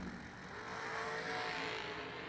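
Race cars launching off the line at a drag race, a loud, sustained engine roar that swells briefly as the cars pull away, with no voices.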